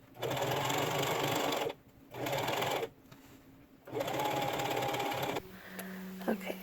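A sewing machine stitches the side seams of a silver mini dress in three fast, whirring bursts separated by short pauses. After the last burst comes quieter handling and a few small clicks.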